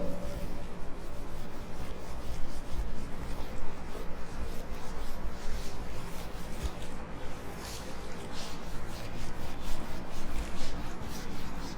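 An eraser rubbing a board clean in continuous rapid back-and-forth strokes, close and steady for about twelve seconds, with no talking over the scrubbing.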